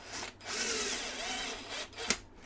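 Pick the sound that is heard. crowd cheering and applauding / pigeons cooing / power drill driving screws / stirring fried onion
power drill driving screws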